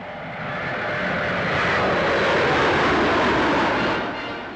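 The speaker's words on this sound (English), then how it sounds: "This 50-seater medium-range airliner with a cruising speed of 312 miles an hour is powered by 4 turbo-propeller engines" A Vickers Viscount 700, a four-engine turboprop airliner, passes overhead with a broad, steady roar that swells and then fades slightly, alone without talk.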